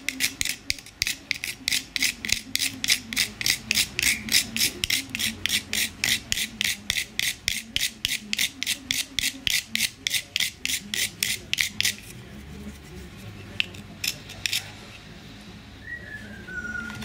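A whole nutmeg is grated on a small hand rasp in steady, rhythmic scraping strokes, close and fairly quiet, then the strokes stop and a few light taps and handling sounds follow.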